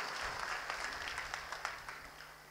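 Applause from an audience at a kirtan gathering in a village, a brief patter of clapping that tapers off, fairly faint and at a distance.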